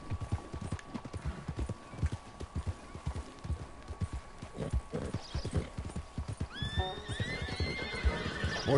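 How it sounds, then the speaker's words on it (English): Horses in a western video game, with steady hooves clip-clopping throughout and a loud whinny near the end, all close and clear. "Horses."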